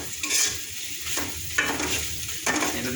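Food sizzles and fries in a pan in a home kitchen, a steady hiss broken by repeated scrapes and stirs of a utensil against the pan.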